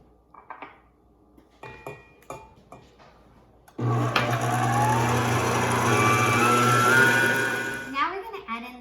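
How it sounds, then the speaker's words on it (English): An electric mixer on medium-high speed beats two large eggs into lemon loaf batter, a loud steady whir with a scraping rattle that starts abruptly after a few quiet kitchen clinks and runs for several seconds. "Now we're going to beat in 2 large eggs into our mixer on medium-high speed."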